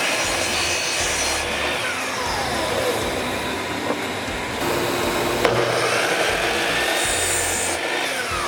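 Miter saw with a stop block cutting a run of 9 3/4 inch wooden pieces for a doormat, a dense continuous grinding, rasping noise with whining spin-downs and a few sharp knocks, close and loud.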